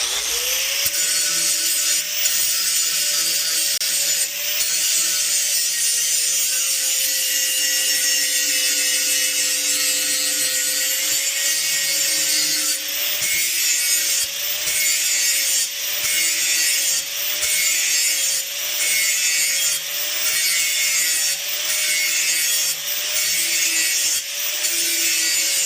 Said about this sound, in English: Quickest, easiest, cheapest thing to use is a hand grinder like this